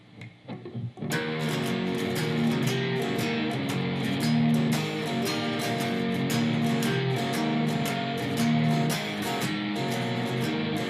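Electric guitar plays a full blues shuffle at real speed, a steady driving rhythm with slightly distorted tone starting after a brief quiet second and continuing loud and even throughout.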